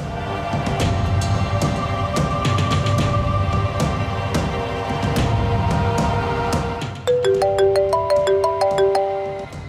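An electronic phone ringtone plays a repeating melodic pattern, then switches to a different bright chiming tune near the end.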